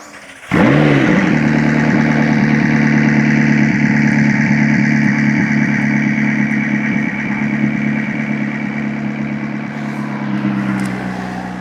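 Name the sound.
sports car engine idling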